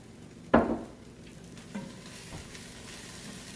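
Lentils tip into a pot of chickpeas and white beans for Persian ash-e reshteh soup, landing with one sharp rattling thump, then a soft stir and faint simmering sizzle carry on quietly.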